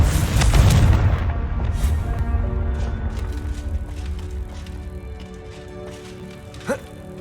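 A Confringo fire spell explodes in the game Hogwarts Legacy, a loud booming burst at the start that rumbles and fades away, followed later by a brief sharp magical effect.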